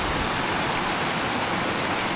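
Clear mountain river water babbling steadily through a valley, a constant close wash of rushing flow with no voices.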